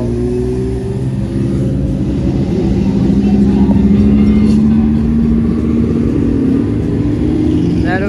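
A Lamborghini Aventador at Monterey Car Week gives a loud, steady engine drone whose pitch climbs gradually, close and continuous throughout.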